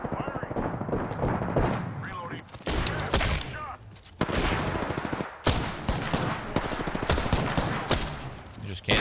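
Triple Take rifle in Apex Legends fires in sharp repeated bursts of gunshots across the stretch, loud and close, broken by brief pauses, with other game sounds mixed in.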